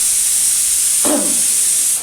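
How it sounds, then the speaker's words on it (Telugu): A pressure cooker in a home kitchen, cooking tomato dal, lets out a single steady steam whistle. It is loud and high over a constant hiss, rising sharply about halfway through and holding to the end. "చూసారా కుక్కర్ కూడా ఇజిల్ వచ్చేసింది అండి"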